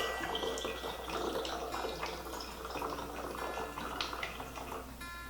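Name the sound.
pouring vodka into a little bottle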